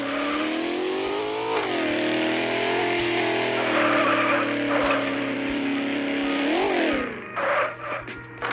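A car engine in a mobile video game roars and revs steadily at high pitch, rising and dipping in tone, with tire squeal and a brief rough scrape near the end.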